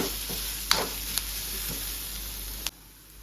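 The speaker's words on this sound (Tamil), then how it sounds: "இப்போ பார்த்தீங்கன்னா வெங்காயம் நல்லா வதங்கிடுச்சு" Onions and curry leaves sautéing in a pan, a quiet steady sizzle with a few clinks of stirring, then a sudden drop near the end as the sound cuts off.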